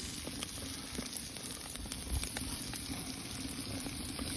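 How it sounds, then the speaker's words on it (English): Ribeye steaks sizzle steadily on a hot rocket stove, a constant crackling hiss with scattered pops, close and unbroken. "Listen to it sizzle."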